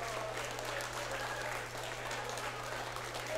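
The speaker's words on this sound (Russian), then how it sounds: "Аплодисменты, конечно же, сейчас Антону Дерябину." Wrestling show crowd applauding steadily at a ring event, dense continuous clapping throughout with a steady low hum underneath.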